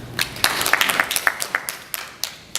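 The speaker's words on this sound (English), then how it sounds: "So, round of applause." A small audience gives brief, scattered applause at a bistro food presentation, with uneven individual claps at moderate volume for a couple of seconds.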